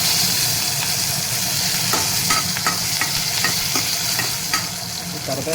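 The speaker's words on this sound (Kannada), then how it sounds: "ಸಾಸಿವೆ ಆದಮೇಲೆ ಲಾಸ್ಟಿಗೆ ಸ್ವಲ್ಪ ಕರಿಬೇವು ಹಾಕ್ಬಿಡ್ತೀನಿ ಇದಕ್ಕೆ" Curry leaves hit a mustard seed tempering for radish chutney and fry with a loud, continuous sizzle and spatter, broken by scattered pops and stirring clinks, near and without voices.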